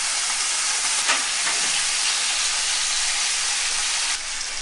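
Butter sizzles loudly in a hot pan beside a beef sirloin steak, a dense, steady hiss that runs unbroken with a brief surge near the start and a slight drop at the end.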